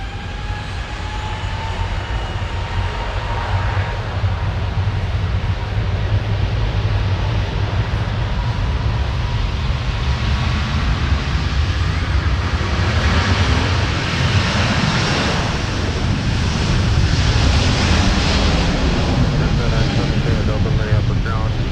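Delta airliner departing a Minneapolis airport runway, a loud, sustained engine roar building steadily over about twenty seconds, with tower radio chatter heard over it.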